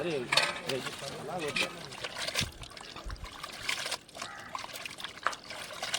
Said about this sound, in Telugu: చికెన్ అయితే నీట్గా క్లీన్ చేస్తున్నాం